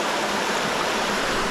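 Floodwater rushes in a swollen Slovenian stream, a loud, dense, unbroken roar of flowing water heard close by.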